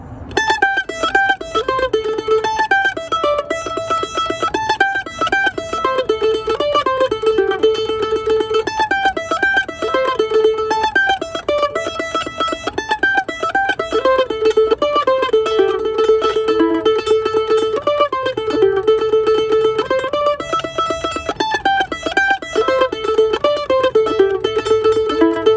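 Mandolin playing a steady eighth-note melody of a bluegrass tune with alternating down and up strokes, bright plucked notes in an even rhythm, close and alone without talk throughout.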